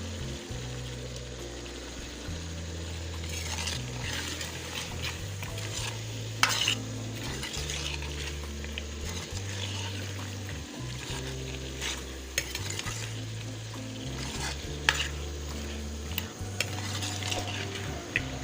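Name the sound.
potatoes and peas frying and stirred in pan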